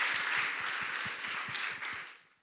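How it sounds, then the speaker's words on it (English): An audience at a ladies' study group event applauding, with steady clapping from a crowd at moderate distance that fades out toward the end. "can we have a round of applause for Mr."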